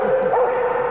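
Police K-9 dogs at a fundraiser event give a brief, close yip or bark that is partly masked by someone talking.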